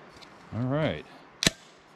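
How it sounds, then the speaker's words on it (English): A homemade can launcher fires a plastic mortar with one sharp, close pop, preceded by a short voiced sound. "We're gonna launch our plastic mortar first"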